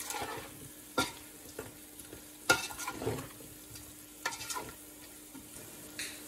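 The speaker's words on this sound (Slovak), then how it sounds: "Papriku stačí možno nejakých 30-40 sekúnd so zemiakmi orestovať." Potatoes with sweet ground paprika sautéing in a pan, a steady soft sizzle with occasional clinks and scrapes of a utensil stirring, no voices.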